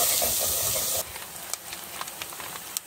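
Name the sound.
onion frying in oil in a pan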